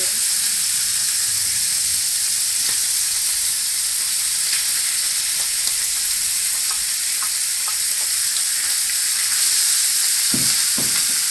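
Onion sizzles and fries with bacon in a pot, a loud, dense, steady hiss that continues throughout, with faint clinks and scrapes of stirring.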